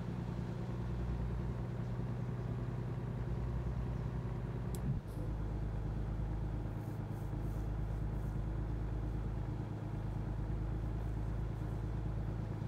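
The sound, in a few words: truck engine revving in video game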